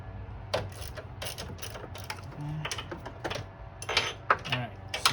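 Bolt on a Mazda Miata front shock tower brace being loosened, with sparse ratchet clicks and metallic taps in short irregular bursts, close and fairly quiet.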